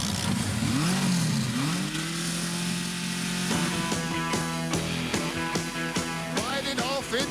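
A motorbike engine revs up and down in rising and falling whines, then settles into a steadier drone with a few sharp rev bursts near the end. It sounds fairly close and loud.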